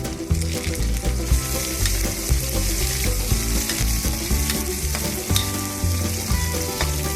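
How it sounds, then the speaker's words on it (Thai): Shrimp stir-frying with minced garlic in a hot oiled pan, a continuous loud sizzle with frequent scraping and clattering of a spatula against the pan. "คราวนี้ก็เอากุ้งใส่ตามลงไปผัดเลยครับ"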